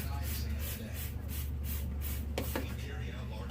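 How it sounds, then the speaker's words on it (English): Soft hissing bursts of cleaner sprayed on a stove over steady background noise, followed by a couple of sharp quick squirts near the end. "You're gonna spray everything."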